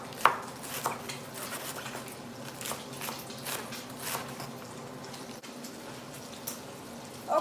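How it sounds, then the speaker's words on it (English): A knife slices lettuce thinly on a cutting board for chicken flautas, a steady run of soft, close chops with a few sharper knocks, heard alone without talk. "I like to cut the lettuce for my flautas as thin as I can."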